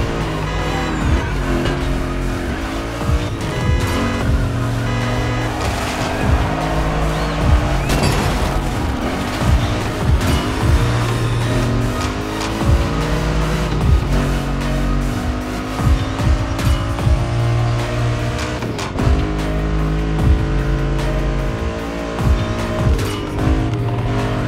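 Race cars in The Crew Motorfest, a souped-up, high-torque Japanese racing lineup, roar steadily with rising and falling engine pitch through gear shifts, punctuated by tire squeals and occasional impacts, loud and continuous throughout.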